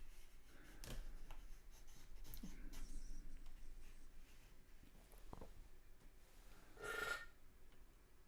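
A pencil draws a portrait on paper in faint, intermittent scratching strokes, quiet and close, with no one speaking.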